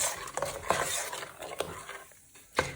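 A spoon works through a pot of yogurt curry, giving soft scraping strokes and occasional clinks against the metal, moderately quiet and close.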